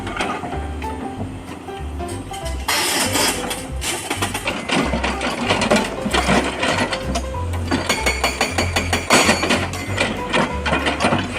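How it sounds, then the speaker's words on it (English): An excavator's hydraulic hammer pounds on giant rocks at a clearing site, a loud, steady, rapid metallic hammering with heavy low engine rumble, continuous throughout with a few brief pauses. "Excavator hammer."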